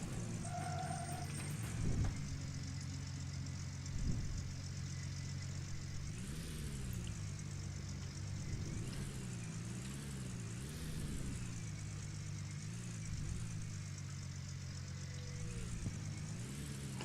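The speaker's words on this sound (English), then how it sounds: "Sounds like it's got a flat tyre." A vehicle engine running on a flat tyre in the video game Gold Rush, a steady droning hum with rising and falling pitch sweeps, heard from a fair distance and fairly faint.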